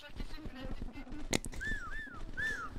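Players in voice chat during a Broke Protocol game whistle, a few rising and falling gliding whistles heard over ongoing talk, with a sharp click partway through.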